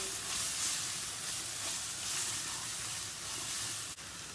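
Tomato paste and flour frying together in a pan, a steady broad sizzle and hiss that holds evenly throughout with a faint clink near the end.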